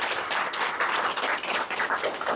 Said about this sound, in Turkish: Burada ben istiyorum hepsini alkışlasınız.